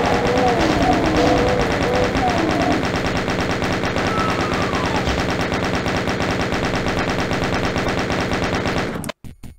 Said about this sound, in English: Stupid chain gun.